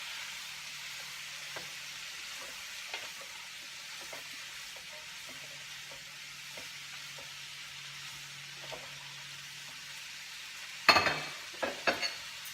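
Cauliflower and broccoli stir-fry in a pan for san choi bow, giving a soft continuous sizzle and hiss with occasional stirring taps, then a few louder clanks near the end.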